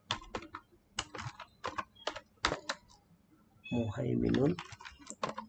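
Typing HTML paragraph text on a computer keyboard, crisp clustered keystroke clicks in quick bursts, close and fairly quiet, with a brief spoken word in the middle.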